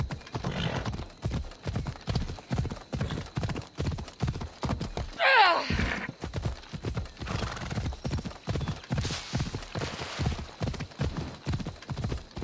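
A horse gallops in Assassin's Creed Odyssey, its hooves clip-clopping in a fast, steady rhythm, and it lets out one clear whinny midway through.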